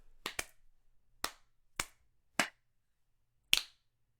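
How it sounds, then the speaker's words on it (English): Five sharp, separate hand claps ring out slowly and deliberately, spaced with long pauses, a double hit at the start and a final louder clap after a longer gap, fairly close in a quiet room. "then he does the slow clap"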